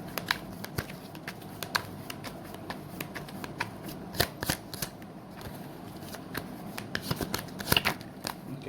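Tarot cards being shuffled close up, a steady run of soft papery riffles and flicks with sharper snaps spaced through, no voices.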